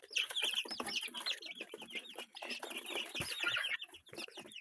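A hen clucks among peeping chicks at home, close and continuous, with rapid high chirps layered over low clucks throughout.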